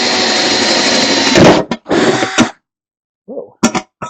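A power drill whines loudly for about a second and a half, cuts out, then runs again in a short burst before stopping; someone says a few words, followed by a couple of brief clattering knocks.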